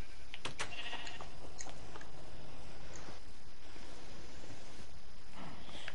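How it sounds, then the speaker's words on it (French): A sheep bleating close by, several short bleats with snorting and shuffling between them, loud and without talk. "Il y a un mouton qui s'enfuit"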